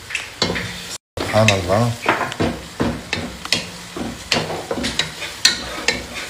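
Chopped onion frying in olive oil for a bulgur breakfast dish, with a close, steady sizzle and repeated stirring scrapes against the pan. A brief spoken exclamation is heard.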